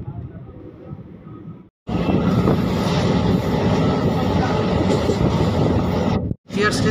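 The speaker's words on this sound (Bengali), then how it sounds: "ট্রেন এখন ছেড়ে দিল মনিয়ান স্টেশন থেকে" The 05701 Malda Town–Katihar daily passenger train runs just after pulling out of a station, a loud, continuous rumbling roar heard from on board, with two brief drop-outs.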